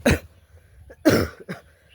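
A few harsh coughs in quick succession, close and fairly loud, with brief quiet gaps between them.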